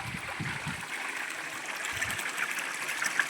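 River water flowing steadily into an irrigation channel on a farm with sugarcane and cassava fields, a continuous close rushing trickle with no talk.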